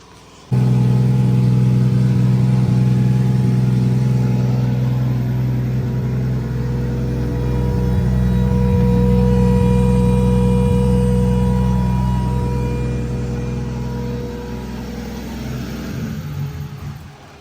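A car with a 1.5JZ engine revs on a dyno, a loud sustained engine roar that climbs and holds before easing off near the end, close and alone.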